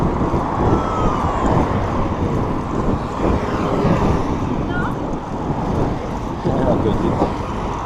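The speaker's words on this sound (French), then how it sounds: "Ça pourra permettre de tester le son de la caméra quand il y a du vent." Steady, dense wind buffeting on a camera microphone while cycling, a continuous low rumble with gusty swells throughout and no clear pauses.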